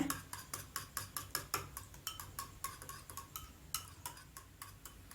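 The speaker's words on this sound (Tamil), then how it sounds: "போட்டு நல்லா முட்டையை நல்லா கலக்கி விட்டுக்கோங்க" Eggs with salt and pepper being whisked in a bowl, a steady run of quick metallic clinks as the utensil strikes the bowl, close and fairly faint.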